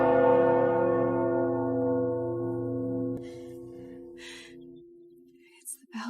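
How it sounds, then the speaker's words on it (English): A church bell tolls for a wedding, one long ringing peal that decays slowly over several seconds, followed by faint breathy sounds and a brief voice near the end. "It's the bells."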